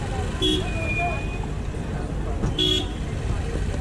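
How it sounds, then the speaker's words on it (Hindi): Short car horn toots sound twice over steady traffic rumble, with voices murmuring in the busy street background in Delhi. "कितना लोग हॉर्न बजाते हैं"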